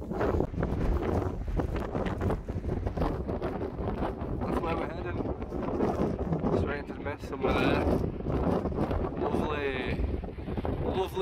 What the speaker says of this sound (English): It's probably quite windy up here